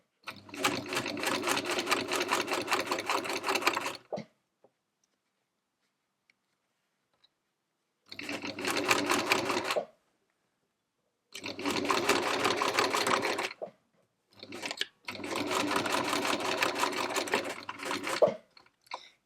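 A sewing machine stitches fine leather for a pouch using a regular needle, running in several fast, steady bursts with silent pauses between them, close and moderately loud, with no talking.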